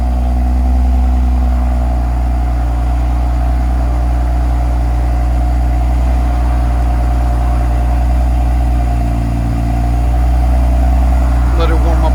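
BMW M340i with a 3.0L engine and Dinan valved axle-back exhaust idles steadily after a cold start with the valves closed, a loud, even low hum and harmonic drone throughout, with a faint rattle near the end.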